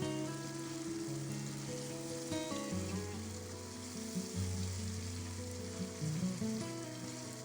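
Steady, continuous sizzling of ginger garlic masala frying in a hot pan for chickpea curry, crackling and bubbling evenly throughout with no talking.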